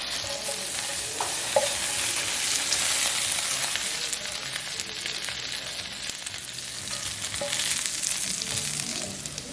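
Burgers and vegetables frying together in a pan, a continuous bright sizzle with scattered pops and small spatters, no one speaking.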